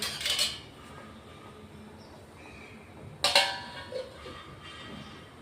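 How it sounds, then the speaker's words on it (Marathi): A metal lid is placed over a pot of sweet corn cooking on a home stove, with a soft clink at the start and a sharper metallic clatter midway in a quiet kitchen. "त्याच्यावर आपण आता झाकून ठेवू."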